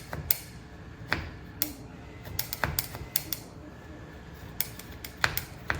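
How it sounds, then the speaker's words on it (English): A spoon scraping the peel off fresh ginger, sounding as a string of sharp, dry clicks and scrapes at an uneven rhythm, close by and fairly quiet. "But to peel the ginger with the spoon, I just hold it down and"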